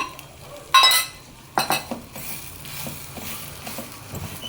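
Semolina for rava idli dry-frying in a pan, with a few sharp metallic scrapes and clinks of a spoon against the pan, then softer intermittent stirring noises close by.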